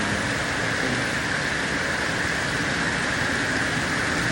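Heavy rain pours down on a bahay kubo near the sea, a dense, unbroken roar of drops that stays loud and even throughout, with no voices.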